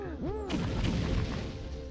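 An explosion in the video game LISA: a sudden loud boom about halfway through, followed by a dense crashing rumble that lasts to the end, after some bright sweeping game tones.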